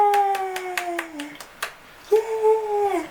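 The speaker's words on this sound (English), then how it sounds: "Clap your hands." About eight sharp hand claps land in a quick, even rhythm, then pause, while a voice holds drawn-out tones over and between them at close range.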